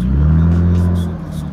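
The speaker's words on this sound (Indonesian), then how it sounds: "Rev up your engine, man. Rev up your engine." A car engine revs loudly and steadily in a garage, a deep sustained rumble holding close throughout without talk.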